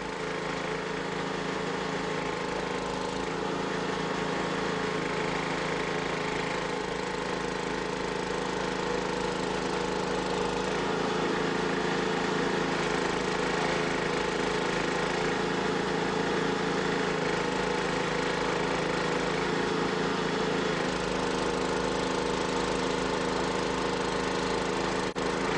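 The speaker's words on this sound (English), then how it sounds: "As a one-man operated unit, the threader represents a very economical and effective way of installing rail." A rail threader machine's engine runs steadily throughout while track rail is installed, a continuous loud mid-pitched drone with no pauses and no talk over it.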